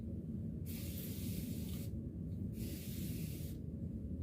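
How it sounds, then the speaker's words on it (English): A spray bottle mists rosemary and peppermint hair mist in two long, steady hissing bursts, close and loud over a low background rumble, with a short pause between them. "I got my mist, y'all."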